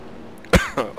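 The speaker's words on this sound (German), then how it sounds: "jetzt muss ich auch husten hier" A person coughs three times in quick succession, sharp close bursts about a quarter second apart, loud against a quiet background with no speech.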